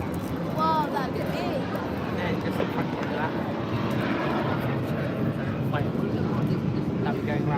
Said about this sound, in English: There's a fighter jet coming round.